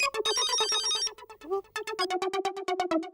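A telephone ringtone plays as a bright electronic melody of rapid repeated notes, a brief pause, then a second run of evenly pulsing tones, close and clear with no voices.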